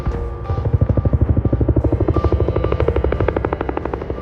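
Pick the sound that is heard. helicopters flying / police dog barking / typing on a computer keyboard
helicopters flying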